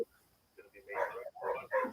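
Dogs bark in several quick bursts toward the end, fairly faint and somewhat distant, after a brief quiet stretch.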